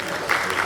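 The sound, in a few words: audience applause for the students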